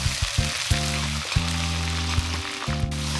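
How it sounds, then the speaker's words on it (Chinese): Chopped scallions hit hot oil in a wok and crackle into a steady, dense sizzle that runs continuously, with a few louder pops and spits along the way. "然后起油锅，撒入葱花"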